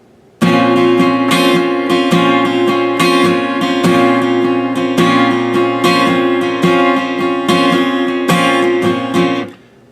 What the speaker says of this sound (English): and then come back in with a strong strum on the 1 beat.